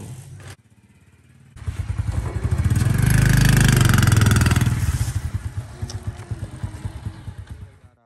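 A motorcycle engine idles with a steady putter, revs up into a loud sustained roar, then settles back to a chugging idle, heard close and alone without talk.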